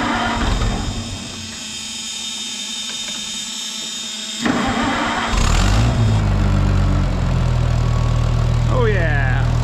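An Oliver 880 tractor engine cranks with a grinding starter, catches and settles into a loud, close, steady diesel idle while a person talks nearby.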